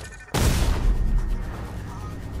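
A single loud sniper rifle shot from Fortnite cracks sharply and then rolls off into a long, booming echo that fades slowly.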